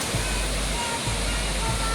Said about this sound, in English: Are you excited to see the waterfall?